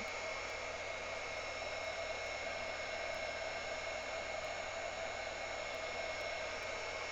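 A hair dryer runs steadily and loudly on beads for a beauty layout, a constant whirring blow with no break and no voices.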